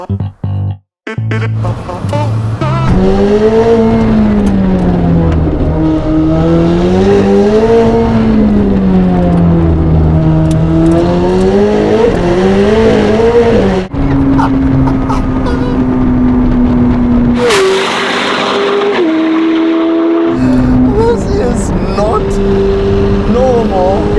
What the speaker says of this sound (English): Back in the 765 LT, a Novitec version, just because we can.